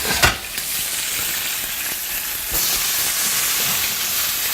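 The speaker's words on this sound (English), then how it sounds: "You hear how it's sizzling?" Steady, loud sizzling of meat and mirepoix frying in a hot pan, a constant crackling hiss with a few brief clatters.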